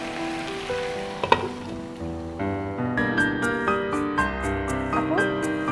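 Cabbage sizzles in a covered pan, a continuous soft frying hiss with a brief clatter early on, overlaid by sustained tonal, music-like notes.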